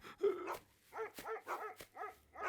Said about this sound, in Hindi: काफी देर से स्कॉट डॉग वहां भौंक रहे हैं।